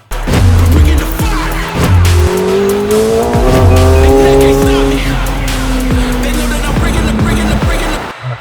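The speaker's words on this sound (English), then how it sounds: "the car is very loud and noisy and whatnot" A supercar engine revving hard in sport mode, loud and close, with rising and falling gear-change sweeps, brief throttle blips and a tire-squeal-like whine through the middle before it cuts off near the end.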